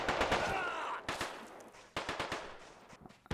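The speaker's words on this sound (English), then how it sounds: "We got a PKM down here on the Taliban left flank." Bursts of rapid automatic PKM machine gun fire in a video game rattle in short volleys separated by brief pauses, sounding somewhat distant amid a noisy battlefield.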